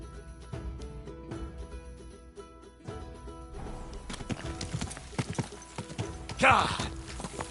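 In the video game Kingdom Come: Deliverance 2, a horse's hooves clip-clop in a quick, steady rhythm. Spoken voices sit over the hoofbeats, which grow busier toward the end, with a short whinny-like burst near the close.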